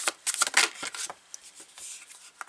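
Several decks of tarot cards shuffled together by hand, a run of close, papery riffles and flutters in uneven bursts, loudest early and then trailing into softer rubbing and slides.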